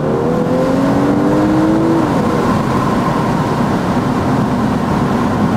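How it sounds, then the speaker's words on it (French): Audi A5 car engine accelerating from inside the cabin, a steady loud drone with rising tones that climb and shift through gears, no talking. "Fait que là, on va accélérer un peu"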